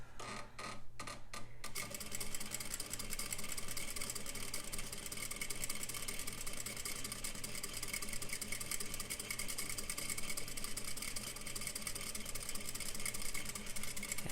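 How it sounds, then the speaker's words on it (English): A sewing machine stitching a seam along cleaned seam allowances, running as a steady fast mechanical hum and rapid ticking, close and continuous after a few short starts at the beginning. "I'm coming up to the end, and I'm getting ready to backstitch"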